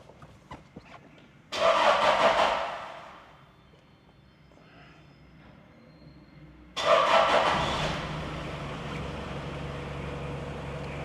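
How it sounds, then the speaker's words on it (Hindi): A 1996 Toyota Surf with a 3000cc diesel engine cranks and catches twice, each start a sudden loud burst that settles into a steady idle rumble, heard close with no one speaking. "इस गाड़ी का स्टार्टअप भी मैं आपको जल्दी से दिखा देता हूं"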